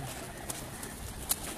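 A hobbyist's pigeons coo softly on a rooftop, faint and low, with a couple of brief sharper bird sounds breaking through the quiet background.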